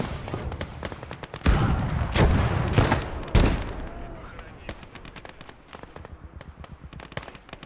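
Artillery lobs fire in the WWII strategy game Gates of Hell as a string of heavy booming blasts followed by rapid crackling impacts, loud and close, with someone talking over the barrage.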